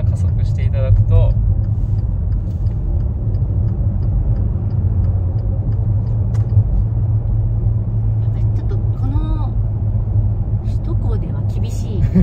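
A Maserati Levante GT hybrid SUV accelerates in manual mode with paddle shifting, giving a steady low engine rumble inside the cabin under continuous conversation, with a brief rising tone partway through.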